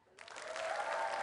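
A studio audience starts clapping for Gading, applause swelling quickly from quiet to a steady, fairly soft patter over about a second.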